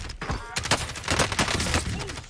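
Rapid bursts of automatic gunfire in the video game Call of Duty: Warzone, loud and close, a dense volley of shots across a couple of seconds.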